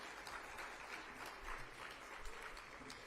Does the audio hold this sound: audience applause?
yes